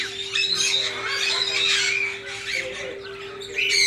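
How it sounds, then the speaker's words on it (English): Parakeets and finches in a pet store give busy, overlapping squawks and chirps at close range, over a constant electrical hum, with some faint talk mixed in. "these are parakeets and finches, so they fly easier and they're harder to get"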